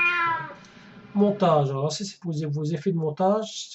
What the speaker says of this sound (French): Donc si je fais bruit de fond, voilà un chat.